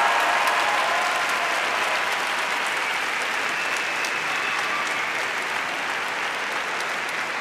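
A graduation ceremony audience applauds in a steady, dense wash of clapping that holds loud and even for the whole stretch, with no voices rising above it.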